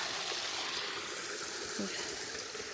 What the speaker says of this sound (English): that might be our small waterfall